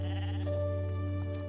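A sheep bleats once in the video game Star Stable Online, a single sustained, nasal, wavering call heard close and clear without talk.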